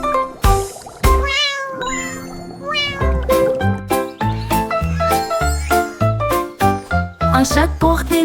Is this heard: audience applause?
no